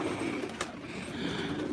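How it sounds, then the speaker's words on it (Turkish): Pigeons in a rooftop loft holding around 400 birds give soft, low cooing murmurs, close and continuous over a short stretch, with a brief flutter in the middle. "Şu an damımızda 400 tane sahiplendirebileceğimiz güvercinler var."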